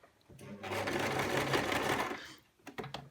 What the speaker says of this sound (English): I'm going to do a back tack